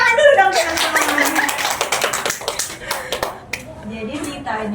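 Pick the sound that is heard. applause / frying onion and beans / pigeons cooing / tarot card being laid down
applause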